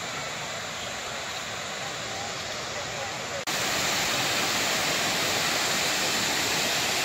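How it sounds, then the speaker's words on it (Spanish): A river rushes in a steady, dense broadband wash that swells noticeably louder midway through, constant and close with no pauses. "Siguiendo compartiendo en este río hermoso."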